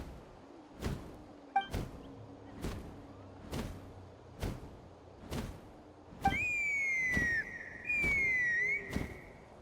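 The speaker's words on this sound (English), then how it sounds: "That sounded like a whistle." A whistle sounds twice in long, steady sliding tones near the end, blown to summon a cuckoosaur, heard over a series of regular heavy thumps repeating about once a second.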